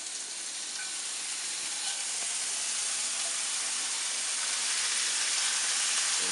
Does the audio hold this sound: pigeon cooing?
no